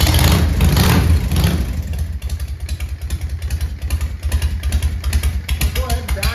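A Harley-Davidson EVO Softail V-twin, running on choke after a slow start, idles with a loud lumpy rhythmic chug that settles from a brief rev into steady uneven pulses, close by indoors.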